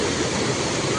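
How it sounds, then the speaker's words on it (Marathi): A hidden waterfall in Konkan, near Kankavli, gives a steady, dense roar of falling water filling the whole moment without letup. "सेकंड वॉटरफॉल बघतो आहे."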